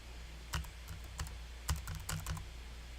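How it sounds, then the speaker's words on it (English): A computer keyboard is typed on up close in short irregular bursts of soft key clicks, some strokes louder than others, over a quiet room background with no talking. "Hopefully I'm typing it in correctly."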